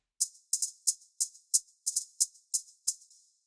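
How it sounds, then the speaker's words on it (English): A dry, tight closed hi-hat ticking in an uneven pattern, about a dozen short crisp hits with quick decays, played alone. "The next one was this closed hat sample,"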